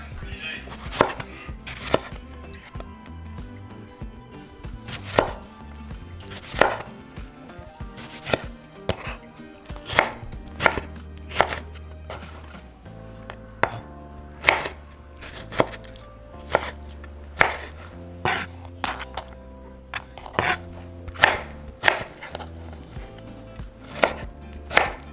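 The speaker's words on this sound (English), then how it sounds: "we're going to grab our extra tomato and the other 1/2 onion, and we're going to chop them into small pieces" Tomato and onion are chopped into small pieces with a knife, giving a long run of sharp, close taps in an uneven rhythm with short pauses between bursts.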